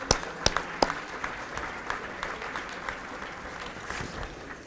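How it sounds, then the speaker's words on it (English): Applause at an awards dinner for the Cleveland International Hall of Fame, a moderate roomful of clapping with a few sharp nearby claps at the start, continuing evenly at medium loudness. "can we give a round of applause to Debbie for her hard work and the tables?"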